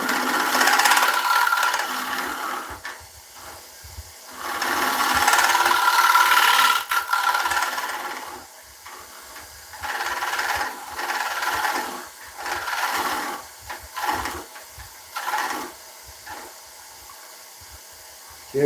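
Dense hardwood spinning on a wood lathe is sanded in uneven rasping strokes, loud passes broken by short pauses, over a faint mechanical rattle.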